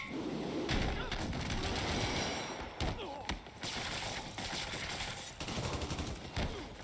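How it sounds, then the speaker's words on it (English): Sustained gunfire in the Spider-Man Remastered video game, dense overlapping bursts and clattering mechanical rattles filling the whole stretch with only brief dips, loud and continuous over game sound. "Open fire!"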